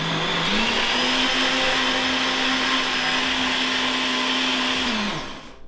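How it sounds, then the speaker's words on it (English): A household electric blender runs steadily at close range with a loud whirring motor drone, holding one even pitch for about four and a half seconds before winding down and cutting off. "we gotta turn the power on so the blender works"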